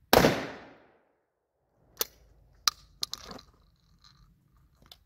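A Rossi S12 Riot Gun shotgun fires at a shooting range: one sharp, loud blast that decays quickly, followed by several quieter snapping clicks and handling noises.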